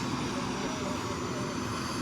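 A helicopter flies over Rairangpur during a visit by the President and Chief Minister. Its loud, steady engine and rotor drone fills the whole stretch, with voices blending into the noise.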